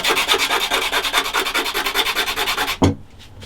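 Sandpaper scrubbing wood during the building of a first guitar, fitting kerfing and side bars: a steady run of rapid, rhythmic back-and-forth rasping strokes close up, ending with a single knock before it falls quiet.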